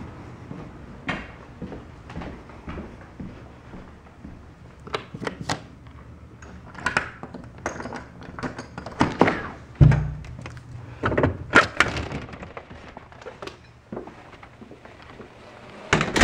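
A house front door is worked open during an October snowstorm, giving scattered close thunks, rattles and knocks of handle and frame, with louder bumps near the middle.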